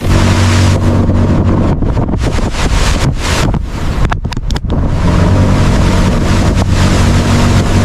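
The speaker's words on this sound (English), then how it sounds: "a high-speed speedboat racing across deep blue ocean water, with the camera mounted at the front, waves crashing over the lens" An AI-generated speedboat roars loudly over deep ocean water, with heavy wind buffeting and splashing bursts as waves slap against it, continuous and close.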